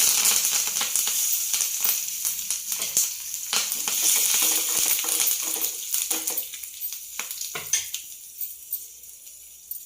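Curry leaves and asafoetida dropped into hot oil for a bottle gourd yogurt chutney, crackling and sizzling loudly up close, with sharp spattering pops that thin out toward the end.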